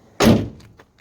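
A single solid thunk of a car door shutting close by, with a couple of faint clicks trailing after.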